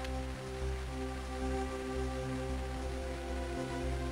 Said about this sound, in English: and now it's raining now?